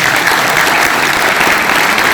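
An audience applauds the film The Kashmir Files at a public gathering: steady, dense clapping that continues evenly throughout, close and fairly loud, with no voices on top.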